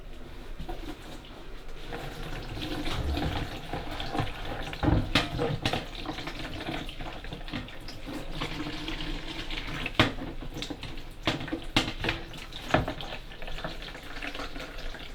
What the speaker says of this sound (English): we're going to rinse it out with some warm water